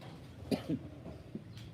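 A few short coughs and throat-clearing bursts from a person, close and moderately loud, spaced out over a quiet background.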